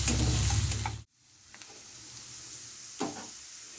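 Two finely chopped onions go into a pan to fry: a loud, dense sizzle that abruptly drops to a low, steady hiss, with a couple of faint stirring scrapes.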